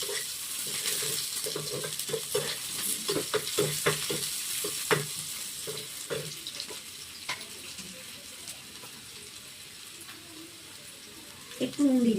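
Chopped onion dropped into hot oil with whole cumin tempering sizzles steadily, broken by scraping stirs and clinks of the spoon against the pan, with a brief louder burst near the end.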